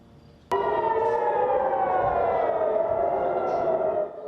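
A loud air-raid siren in Israel during an Iranian missile attack starts abruptly and wails steadily, its tone slowly sliding lower before cutting back near the end.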